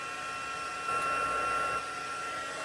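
An embossing heat tool runs steadily for a few seconds, warming up before heat-setting embossing powder on a stamped image, a continuous airy whir like a hair dryer that swells slightly in the middle, close and alone.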